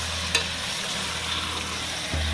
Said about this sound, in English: Let it fry up a little bit.